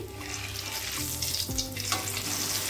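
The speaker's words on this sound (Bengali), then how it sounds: "এখানে ফোড়নে আমি 1/2 চামচ জিরে আর 2টো শুকনো লঙ্কাকে একটু ছিঁড়ে দিয়েছি।" Cumin seeds and torn dried red chillies sizzle in hot oil for a tempering, a close crackling fry with a few stirring knocks, with no talk.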